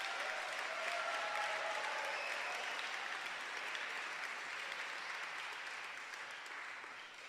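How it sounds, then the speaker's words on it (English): A concert audience at a school winter event gives a sustained round of applause for a young performer, a dense wash of clapping that holds steady and slowly fades. "Let's just have another round of applause for our young lady there."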